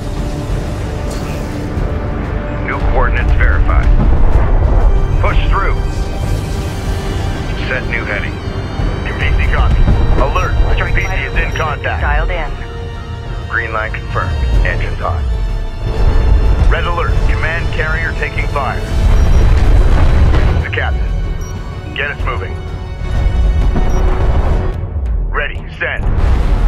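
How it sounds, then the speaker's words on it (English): Hostile railgun fire in the desert war game Homeworld: Deserts of Kharak: heavy booming shots and rumbling impacts recur over a constant engine drone, with radio chatter voices speaking throughout. "Hostile railguns opened up"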